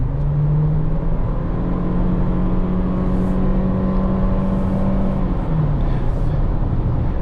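A 2024 Toyota Corolla Cross Hybrid accelerates toward highway speed, with a steady cabin drone of engine and road noise and a rising whir that eases off near the end.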